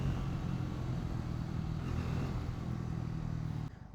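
A motorcycle rides along a curving mountain road, its engine giving a steady, close drone from start to end with no voices, then dropping off sharply just before the finish.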